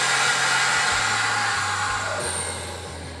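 A chamber vacuum sealer pump roars steadily, a dense whooshing drone close by, its pitch stepping down in stages as it pulls to 25 inches of vacuum.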